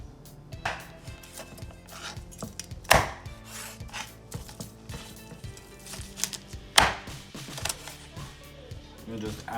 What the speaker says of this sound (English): Now we're gonna cut it into pieces and put it in the masala for biryani